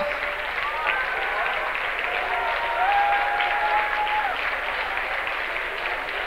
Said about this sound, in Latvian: Viņiem jūsu aplausi.